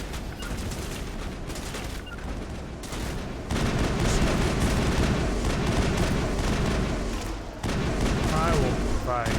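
Sustained gunfire from a Mass Effect battle, dense and loud with steady volleys throughout and a brief lull partway, while voices talk over the shooting.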